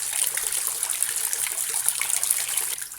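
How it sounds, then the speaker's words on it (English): Steady, bright rush of water pouring from a tap with its aerator removed, a continuous hissing splash with no voices. "Look at how the water flows."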